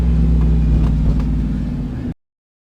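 Loud, close Audi RS4 B7 4.2 V8 twin-turbo engine fitted in a van, revving hard as the van accelerates, a dense steady low roar held for about two seconds before cutting off abruptly.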